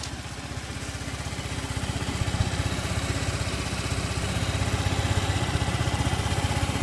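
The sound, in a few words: fuel-injected scooter engine idling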